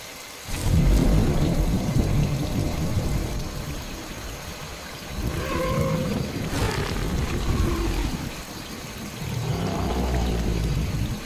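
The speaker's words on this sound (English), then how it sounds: "When the storm breaks, the forest roars" Rain and storm noise in a forest comes as broad rushing swells that rise and fall in three long waves, with a deep rumble underneath and no voices.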